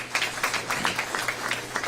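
An audience applauds at a press event, a steady patter of many hands clapping close by for a couple of seconds with no voices over it.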